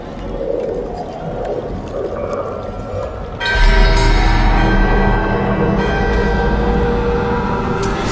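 A great bell being awakened in the video game Dragon Age: The Veilguard swells in about halfway through, a loud, resonant, sustained ringing tone layered over the game's ambience until the end.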